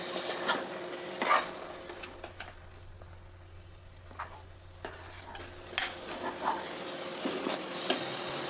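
Spices frying in a pan, with a soft sizzle and intermittent scraping of a spoon stirring, no voices.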